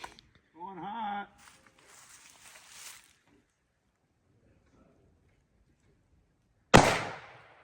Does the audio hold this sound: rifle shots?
yes